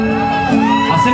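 Concert audience at a telethon show loudly shouting and whooping together, a sustained close wall of crowd cheers and yells with voices overlapping throughout.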